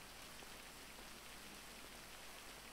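Steady rain falls in the video game State of Freedom, a continuous soft, even hiss of drops on surfaces with no voices over it.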